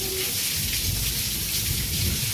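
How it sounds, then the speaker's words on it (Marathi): Heavy rain pours steadily and loudly outdoors, a dense unbroken hiss of downpour with no voices. "रपा रपा रपा पाऊस झालाय लय"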